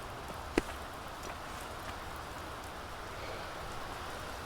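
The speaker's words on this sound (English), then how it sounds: "it's raining" Steady light rain patters throughout in the video game Peaks of Yore, a soft continuous hiss with one sharp click early on.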